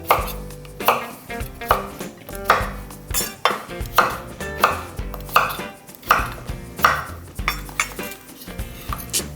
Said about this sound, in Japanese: じゃがいもいきますか。 皮ごといきます。 こいつを乱切りに。